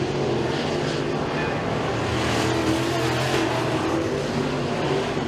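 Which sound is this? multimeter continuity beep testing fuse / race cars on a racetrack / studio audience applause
race cars on a racetrack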